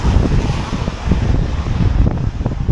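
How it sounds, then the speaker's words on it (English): Gusty wind buffets an outdoor microphone the day after Cyclone Jasper in Innisfail, Australia, a steady broadband rush with low rumbling gusts throughout and no voices. "It's a little windy again."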